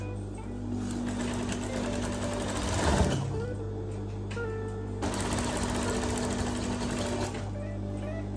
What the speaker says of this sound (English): then you're ready to start your stitching from the bottom all the way up